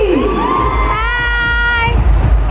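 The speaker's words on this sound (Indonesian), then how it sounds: "Yang pertama, tepuk tangan ya." An audience at a YouTube FanFest 2016 makeup demo cheers and shouts loudly, with high children's voices whooping over a continuous roar of noise.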